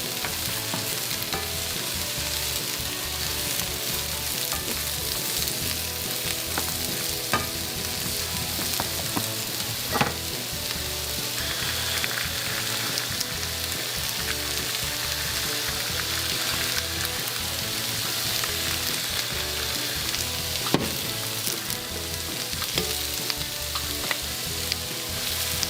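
Onions for beef bourguignon fry in a pan with a steady, dense sizzle and crackle, stirred now and then, close and continuous for a long stretch.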